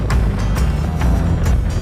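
A motorcycle engine runs steadily and strongly at speed on the road, with a loud, continuous low rumble and some wind noise, no talk heard.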